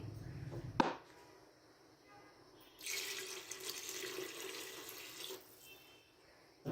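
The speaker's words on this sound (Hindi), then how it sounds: "अब हम यहाँ पर पानी ऐड करेंगे" A brief clatter, then water runs steadily into a cooking pot of fried spices for chicken shorba for a few seconds before stopping, with quieter liquid sounds around it.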